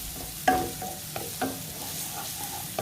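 Onion, curry leaves and green chili soften in a pan for wheat upma, a soft sizzle under a few scattered spoon scrapes and clinks nearby.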